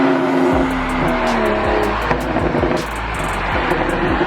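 A BMW F30 335i with an MHD Stage 2 Plus tune revs loudly up close, its engine note rising and falling in repeated pulls, with a faint sharp tick now and then.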